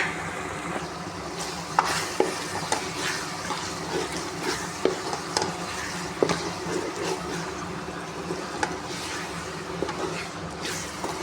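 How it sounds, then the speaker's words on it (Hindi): Cauliflower and potato stir-fried in masala for aloo gobi: a steady close sizzle and hiss with scattered scraping clicks from stirring throughout. "मैं आलू भी इसके साथ डाल के ना गोभी और आलू को अच्छी तरह भून लूँगी"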